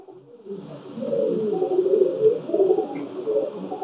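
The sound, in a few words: Pakistani Teddy pigeons cooing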